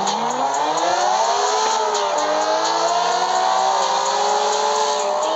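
Engine of a brown Honda Civic race car in CarX Street, a loud, steady high-revving drone with rising and shifting pitch, continuous throughout with no talk over it.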